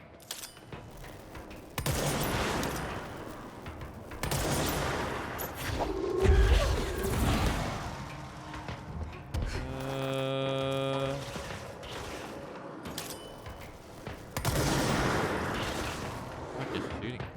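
Gunfire in the video game Control, with bursts of shots and impacts spread through the clip over a dense, steady layer of game action noise, plus a tonal stretch midway.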